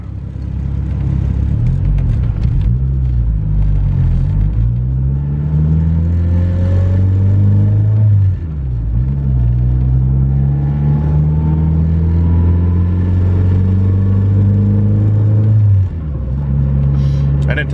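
Turbocharged single-cam Honda D-series engine on a dyno pull running a new ignition timing map, a loud sustained rev rising steadily in pitch, cutting briefly near the middle and winding up again before a final drop.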